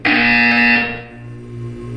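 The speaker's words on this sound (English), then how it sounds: "You will hear a buzzer." A buzzer in the Portal 2 video game sounds as one loud, harsh electronic tone that holds for under a second before fading into a low hum.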